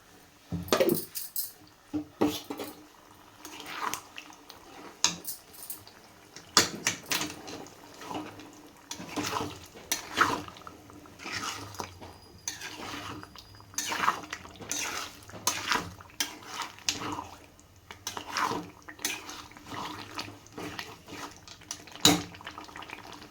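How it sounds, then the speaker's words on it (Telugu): Water swished and splashed inside a mixer grinder jar being rinsed out, with clinks and knocks of the container, close and intermittent throughout. "ఇదిగోండి జారు కడిగి వేస్తున్నానండి ఆ వాటర్ కొంచెం"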